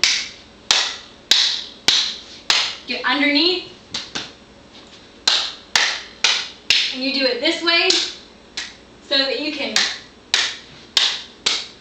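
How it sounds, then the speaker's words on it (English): Sharp hand claps struck in quick bursts and single strokes, forced into corners and under things while cleansing a room, ringing close and loud with a person talking between them. "You can also clap. Clapping is very good."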